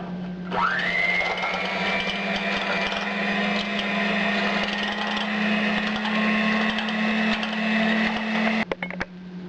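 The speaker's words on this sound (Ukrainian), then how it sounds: "Спочатку будемо збивати цукор і яйця." An electric mixer beats sugar and eggs for marble cupcakes. The motor spins up and holds a steady, fairly loud whine for about eight seconds, then cuts off with a few clattering knocks. No one speaks.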